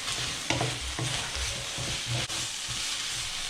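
Spring onion chunks tossed into a hot pan for sweet noodles with chicken and broccoli, giving a close, crackling sizzle with repeated clattering stirs and tosses, without any talking.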